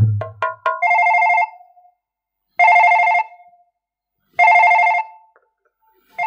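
A telephone rings in three long electronic bursts separated by pauses, after a few short rising beeps, loud and close with no voices.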